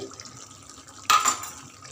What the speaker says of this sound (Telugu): కొన్ని వాటర్ పోసి